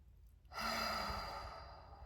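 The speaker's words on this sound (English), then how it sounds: "taking some deep breaths just to settle in" A single deep breath taken close to the microphone, a soft airy exhale that swells after a quiet pause and slowly fades, with no talking.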